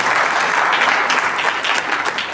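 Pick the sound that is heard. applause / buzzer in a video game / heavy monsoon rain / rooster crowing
applause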